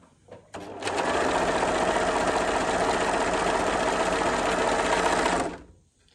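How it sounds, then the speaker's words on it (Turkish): A sewing machine stitching fabric starts after a brief bump, then runs in a fast, steady, buzzing whir for about five seconds before stopping, close and loud with no talk over it. "Şuradan başlıyorum dikmeye."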